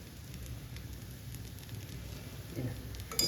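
Homemade ghee sizzles steadily on a dosa in a hot pan, a soft, even crackle close by, with a slight clatter near the end.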